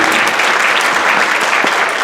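Steady applause from a crowd at a school fall band concert, dense clapping sustained throughout with no pauses, fairly loud and close.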